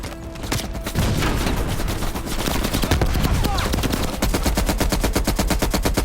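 Sustained rapid automatic machine gun fire in the Call of Duty Black Ops Cold War video game, dense and continuous bursts close by with loud rattling volleys throughout.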